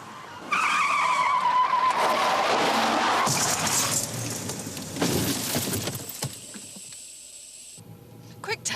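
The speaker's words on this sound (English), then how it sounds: "I heard a car coming up the hill the other way, very, very fast." A car speeds very fast along a hill road, tyres skidding and squealing loudly and close by in a long screeching sweep, followed by a second shorter skid before the sound cuts away.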